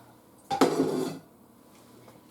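Dishes set down into a kitchen sink while making a marinated lemon chicken bake, a single clattering burst of pots and crockery lasting under a second, close and fairly loud, then quiet.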